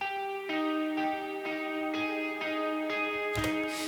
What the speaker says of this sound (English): next sound we have the guitar